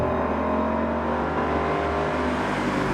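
A Ford Mustang Boss 302 engine revs loud and close, a steady throaty drone that shifts pitch partway through as the car is driven hard.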